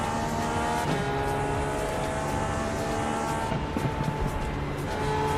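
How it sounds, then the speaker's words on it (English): Race car engines in the Indy 500 pit lane, a steady blended drone of several motors humming and whining together at a constant level, with no talk. "That's the sounds of the pit lane."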